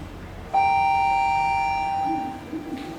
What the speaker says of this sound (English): Love that chime.